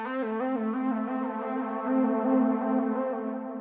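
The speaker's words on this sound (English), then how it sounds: "we could hear the reverb increasing as I played it and turned those knobs up" A sustained SC12 synthesizer lead holds bright, buzzy notes while the reverb send level is turned up, the reverb tail gradually swelling and smearing them into a washy wash, with no one talking.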